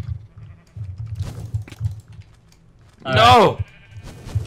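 A single short, wavering sheep bleat rings out in Minecraft, loud and close, over quiet game ambience and keyboard clicks, with people talking around it.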